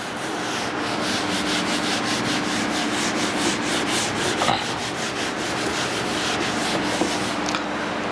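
Steady back-and-forth rubbing as writing is wiped off a board during a trigonometry lesson, a continuous scratchy swishing with rhythmic strokes, fairly loud and close, with no talking.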